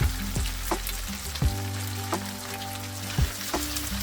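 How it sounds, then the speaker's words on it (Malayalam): Beef sizzles steadily in a hot pan for a Kerala-style beef fry, a continuous crackling hiss with a few louder pops and clinks, while a faint steady tone runs underneath. "കുറച്ച് നേരം കൂടെ നമുക്ക് ഫ്രൈ ചെയ്യണം."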